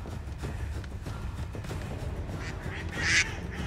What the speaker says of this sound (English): Demonic ducks, got it